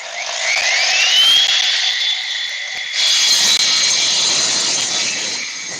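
A power saw rips through a cut with a loud, close, high-pitched whine, the pitch rising as the motor spins up, then the tone shifting and staying strong and steady to the end.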